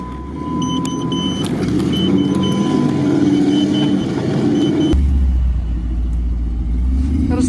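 Off-road jeeps drive along a rutted tank road, engines rumbling steadily at close range, with a deep low drone swelling toward the end.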